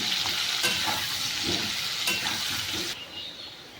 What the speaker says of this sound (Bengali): আলুগুলোকে লাল লাল করে ভেজে নিতে হবে